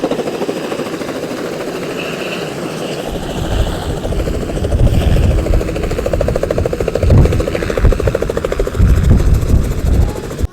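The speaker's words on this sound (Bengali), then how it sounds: "হেলিকপ্টার চলে আসছে দর্শক।" A helicopter approaching for a wedding sends a loud, continuous rotor and engine roar with a low rhythmic beating that grows heavier as it nears.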